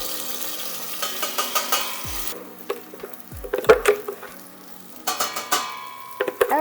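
Thick curry paste for vegan khao soi sizzling in coconut oil in a pan, with crackling bursts and scraping stirs coming in short irregular clusters, close by, with quieter gaps between.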